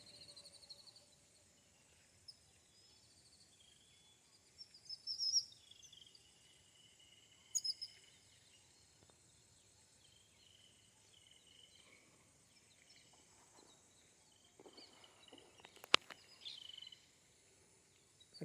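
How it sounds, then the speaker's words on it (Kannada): Birds in a quiet village setting give a few sparse, faint chirps, heard in short bursts spaced several seconds apart over a soft, steady bed of insect and cricket noise. "ಹಕ್ಕಿಗಳ ಚಿಲಿಪಿಲಿ"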